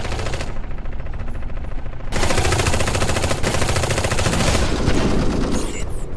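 Dense, loud gunfire from the video game Eximius: Seize the Frontline: sustained automatic bursts and overlapping shots that swell louder after the first two seconds, like a heavy firefight.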